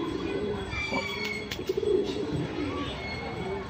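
A pigeon with a lump in its mouth coos softly nearby in low repeated throaty phrases, with faint background noise and a few brief clicks.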